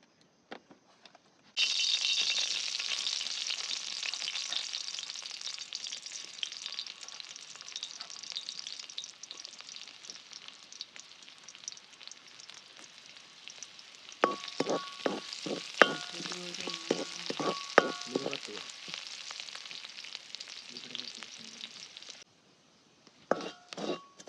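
Coconut frying in a pan as the first step of a young coconut curry, a continuous hissing sizzle with bursts of clinking spoon stirs against the pan near the end.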